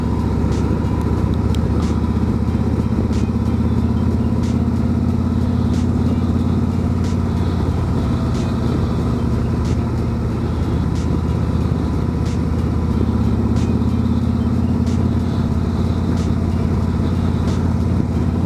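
A 2024 Harley-Davidson Road Glide 3 motorcycle rides along with a steady, loud engine drone and wind rush throughout, no talking, with faint periodic ticks on top.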